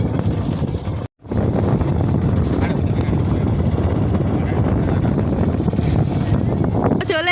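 A motorbike ride out toward a riverbank, heavy wind buffeting the microphone over a low steady engine rumble, close and continuous, with a brief dropout near the start.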